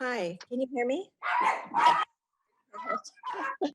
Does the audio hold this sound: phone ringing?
no